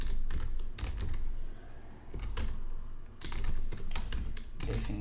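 Steady clatter of typing on a computer keyboard, with bursts of rapid keystrokes broken by short pauses, close and fairly loud with no talking.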